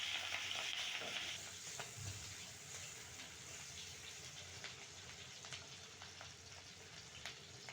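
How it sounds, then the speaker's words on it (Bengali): Chili and onion frying in oil in a wok while fish cooks, a steady broadband sizzle with scraping stirs, louder at first and then settling into a continuous crackle with no talking. "তো এই যে আমি এখন ঝাল পেঁয়াজ দিয়ে দিচ্ছি কড়াইতে"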